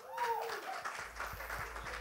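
An audience claps to welcome a guest onstage at a media event. The clapping is moderately quiet and scattered, with a voice and some tonal sound at the start and a few louder thumps later.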